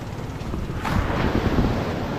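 Gentle wash of small waves mixed with wind rumble against the microphone, steady and moderately loud, with no voices.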